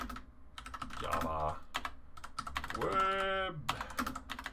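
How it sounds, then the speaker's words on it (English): Rapid clicking keystrokes on a computer keyboard while coding a Java web server, a dense, irregular patter of close key taps mixed with a person's voice humming or speaking over parts of it. "Oh my god, typing is hard."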